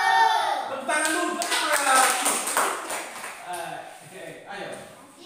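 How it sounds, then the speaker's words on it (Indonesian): A class of children claps in a Catholic religious-education lesson, with a burst of hand claps that thins into scattered taps while young voices chatter over it. "Tepuk tangan dulu."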